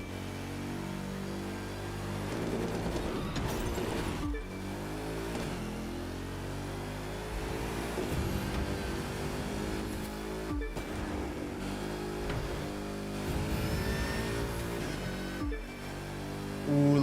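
A supercharged car in The Crew 2 racing game, its engine drone carrying a tonal supercharger whine that rises and falls with repeated gear changes, steady and moderately loud throughout.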